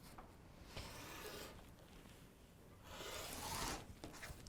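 Fabric is cut for a pieced heart quilt block, most likely with a rotary cutter against a ruler, giving two close, rasping strokes over a quiet room, the second longer and stronger.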